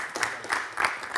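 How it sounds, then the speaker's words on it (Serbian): An audience at a talk show applauds in a short burst of clapping, with rhythmic swells of hand claps from a moderately distant crowd. "Igor Jurić, jedan veliki aplauz za njega."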